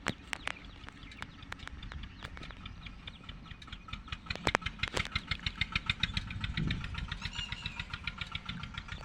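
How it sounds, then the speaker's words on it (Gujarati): A farm tractor engine turns over and catches, then settles into a rapid, knocking idle with a steady rhythmic chug, fairly close and alone. "મિત્રો આપણે ટ્રેક્ટર લઈને આવ્યા"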